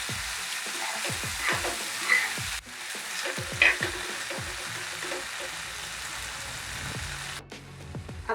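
Bombay duck bhurji frying in a pan, a steady loud sizzle with close, repeated scraping strokes of a spatula mixing it through, no voices.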